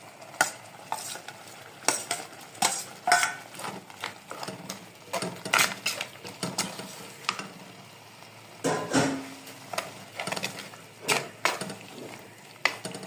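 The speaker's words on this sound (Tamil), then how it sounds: "இது எல்லாத்தையும் போட்டு வதக்கணும்." Ingredients for a prawn curry being sautéed and stirred in a pan, with a spoon scraping and clinking against the metal in quick irregular strokes over a faint sizzle, close by and without talking.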